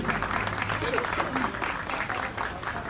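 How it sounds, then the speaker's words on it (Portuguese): An audience at a live festival concert applauds after an orchestra performance. Thick, continuous clapping from a large crowd carries along with murmuring voices throughout. "Uma salva de palmas"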